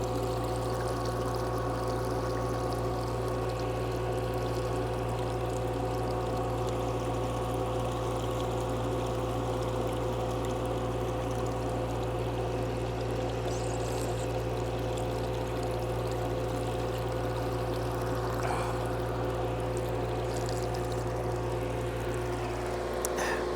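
Cold spring water flows steadily out of the ground, a continuous close rush and trickle with a low steady hum underneath throughout.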